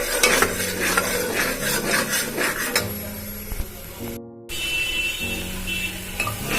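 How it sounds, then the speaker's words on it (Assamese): Chopped onions sizzle steadily in a hot pan while being stirred, with repeated scraping strokes of a spoon against the metal and a brief pause midway, close and continuous, for an Assamese vegetable pulao. "যেতিয়ালৈকে ৰঙচুৱা নহয় তেতিয়ালৈকে এনেকৈ ভাজি আছিলোঁ"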